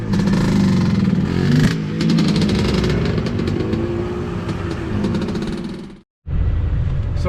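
Truck camper driving south through Baja toward Gonzaga Bay from San Felipe, a loud steady engine and road drone with wind noise, briefly cutting out near the end before resuming.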